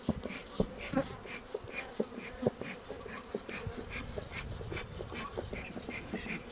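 Honey bees swarm in a beehive packed full during beekeeping, giving a steady dense buzz with brief louder bursts as insects pass near, heard alone without talk.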